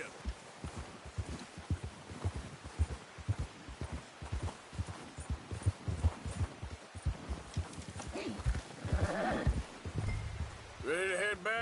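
Horse hooves clip-clopping in a steady galloping rhythm while a rider travels in Red Dead Redemption 2, close and continuous, with a voice briefly speaking near the end.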